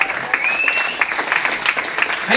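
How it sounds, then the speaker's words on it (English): Audience applause in a ballroom dance hall as a juvenile dancing couple enters the floor, a steady sustained clatter of many hands with a few brighter claps and a faint tone riding over it. "Give them a round of applause as they enter the floor."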